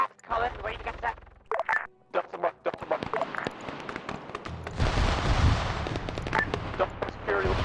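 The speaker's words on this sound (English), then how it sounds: "So you're hearing GMG fire." Grenade machine gun fire in a military shooter game: rapid bursts of sharp, booming impacts, some near and some distant, mixed with radio-style chatter and voices talking across the scene.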